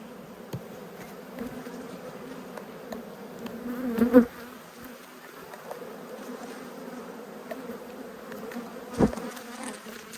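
A continuous low hum of many honey bees buzzing close by at a hive during a late-winter inspection, steady and droning, with a few louder passes and light handling knocks.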